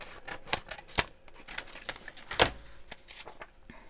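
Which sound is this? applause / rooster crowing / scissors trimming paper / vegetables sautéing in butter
scissors trimming paper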